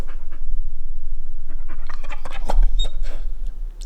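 A dog pants close by in quick, steady breaths that run through the whole stretch, with no talking over it.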